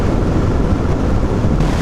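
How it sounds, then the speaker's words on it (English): Steady, loud buffeting wind roar on the microphone of a motorcycle doing about 70 mph on a highway near Cleveland, Ohio, in gusty weather, continuous and broadband with no speech. "it's very windy today"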